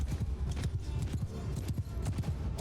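Horses gallop in battle in Mount & Blade II: Bannerlord, a dense, steady run of hoofbeats thudding close and loud throughout.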